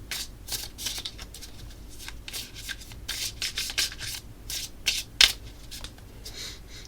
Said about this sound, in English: After we search through the deck, we always shuffle.